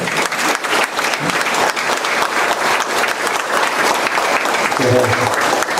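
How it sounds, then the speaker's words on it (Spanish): A crowd at a public conference in Jaén, Peru, applauds loudly and continuously, with a voice briefly audible near the end of the clapping. "¿No se merecerá un aplauso este hombre?"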